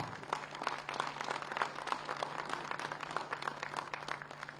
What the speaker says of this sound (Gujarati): ખૂબ બધી તાળીઓ આપણે વ્યક્ત કરીએ છીએ